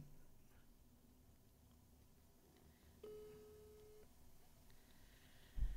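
Mobile phone call tone pulsing steadily at moderate volume over a low background hum, with a brief louder bump near the end.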